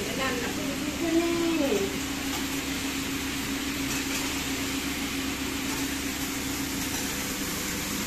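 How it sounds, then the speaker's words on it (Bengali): A kitchen hood runs steadily as a continuous fan hum and whoosh throughout, with a voice briefly rising over it near the start. "এটা এটা হচ্ছে কিচেন হুড"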